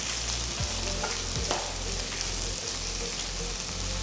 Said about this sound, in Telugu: ఇందులో పొడవుగా తరిగిన 2 ఉల్లిపాయలు, చీల్చిన 3 పచ్చిమిరపకాయలను వేసి వేయించాలి.